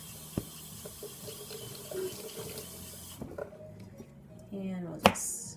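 Running tap water splashes over sweet peppers being washed in a kitchen sink, a steady rushing flow with a few knocks and clatters, ending in a sharp clunk.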